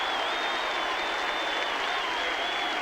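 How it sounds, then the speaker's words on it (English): A large stadium crowd at the 1989 VFL Grand Final, Hawthorn v Geelong, applauds a player, a dense, steady roar of clapping and cheering that holds at even loudness, with a faint tone running through it. "I think we should give him a big round of applause"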